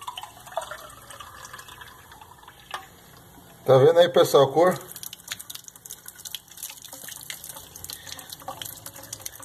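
Milky liquid gushes from a kitchen tap into a glass in a short, splashy burst of about a second. Someone talks before and after the pour.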